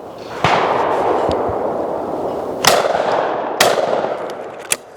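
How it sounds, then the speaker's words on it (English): A Lanber Sporter shotgun firing Fiocchi 28 gram fibre-wad cartridges at clay targets cracks out four sharp outdoor shots, each followed by a rolling echo that fades into the open air. "I'm shooting Fiocchi TTs, the Fiocchi F Blacks, 28 gram, fibroid cartridges"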